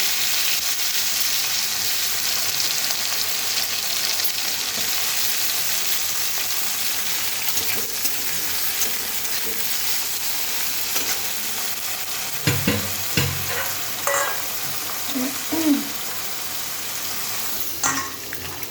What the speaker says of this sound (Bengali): বেগুনগুলো আমি হালকা করে ভেজে উঠিয়ে নেব।